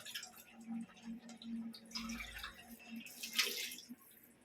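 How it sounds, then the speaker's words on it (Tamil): Water is poured and splashes briefly into a cooking pot during preparation of a cabbage and radish curry, soft and close, over quiet background hum. "தண்ணி கொஞ்சம் ஊற்றிடலாம்"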